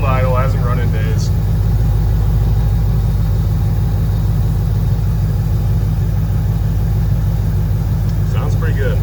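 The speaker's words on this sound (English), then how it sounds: "Cold idle, hasn't run in days." A 1987 Ford Crown Victoria engine idling cold after sitting unused for days, a loud, steady low rumble running unbroken throughout, with a brief voice at the start and end.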